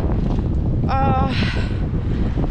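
Steady, loud wind buffeting the microphone, with a brief whistling tone rising and falling in the middle.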